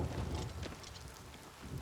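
Thunder and rain in the video game Oblivion Remastered: a continuous low rumble of thunder rolls under steady rainfall, loud and close throughout the short stretch, with no voices.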